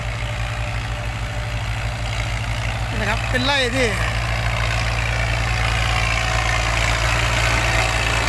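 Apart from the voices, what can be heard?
walking tractor engine in a sugarcane field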